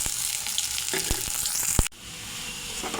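Chopped onions crackle in hot mustard oil for Bengali rui fish kalia, a dense sizzle with several sharp utensil clicks, then an abrupt drop to a quieter, even hiss.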